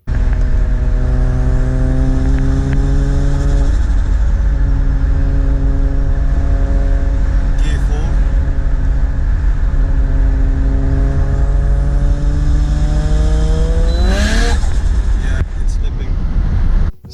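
A Toyota JZX100 drives along while its clutch is tested, the engine droning steadily with rising and falling revs and gear changes, loud and close throughout.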